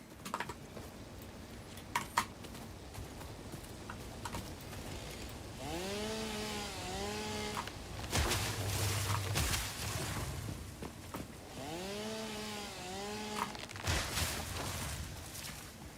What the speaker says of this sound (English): All right, time for a chainsaw.